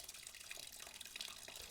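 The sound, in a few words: distilled water flushing a Tenere 700 motorcycle coolant system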